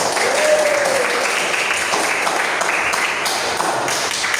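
A classroom audience claps together in steady, dense applause lasting several seconds, fairly close and filling the room, with a brief voice at the start.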